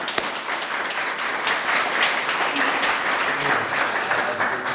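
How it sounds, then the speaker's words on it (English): Audience applause at an outdoor city flag-raising ceremony, a dense wash of clapping that holds steady, with a faint voice briefly audible beneath it. "let's give them a round of applause"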